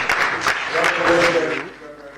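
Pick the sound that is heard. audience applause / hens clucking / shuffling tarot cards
audience applause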